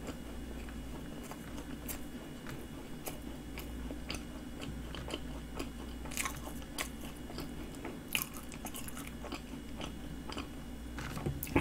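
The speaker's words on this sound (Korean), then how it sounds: "소라빵 먹어요" Close chewing and soft crunchy bites on a cream-filled cornet bread with butter cream inside, quiet mouth sounds repeating irregularly with no talking.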